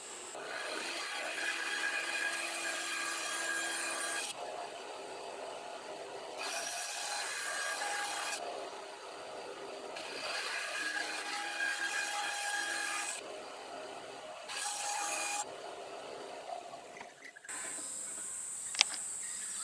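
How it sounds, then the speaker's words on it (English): Small hand saw cutting through a swimbait blank clamped in a vise, a steady back-and-forth rasping in repeated bursts with short pauses between strokes, close and fairly loud with no talking. "I can sit in the vise and cut this with a small saw"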